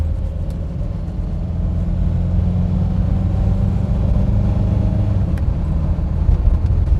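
A 1970s Ford Cortina Mk3 with automatic transmission pulls away in second gear, its engine giving a loud, steady low rumble from inside the cabin that builds gradually as it accelerates.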